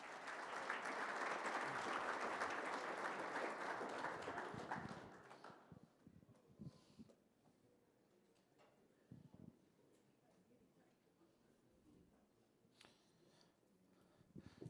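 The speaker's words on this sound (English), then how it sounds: "Round of applause for Francisco." Audience at a workplace safety kickoff meeting gives loud sustained applause for about five seconds, then it drops away to quiet room noise with scattered faint knocks and bits of distant talk.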